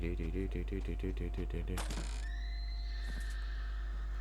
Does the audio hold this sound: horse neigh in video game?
yes